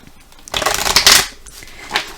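Playing cards shuffled for a card reading: a quick run of crisp riffling bursts, loudest midway, then softer flicks, close and alone without talk.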